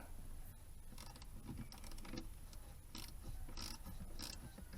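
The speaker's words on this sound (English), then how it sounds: "Here's a 10mm socket out of my basic socket set. I'm just going to loosen this nut." A 10mm socket on a ratchet loosens a nut on a car battery's negative terminal, giving quiet repeated clicking bursts of the pawl at close range.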